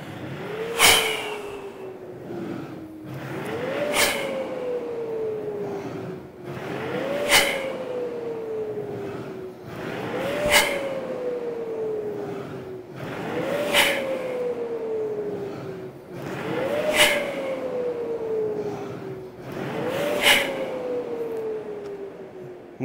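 Seven rhythmic strokes, each a sharp catch followed by a whirring swoosh that slides down in pitch, repeating every few seconds with no talking.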